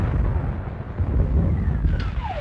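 Second Army artillery guns firing in a 1946 wartime film, heard as a low, rumbling roll of distant booms that blend into a continuous heavy thunder, with a faint whistling tone sweeping down near the end.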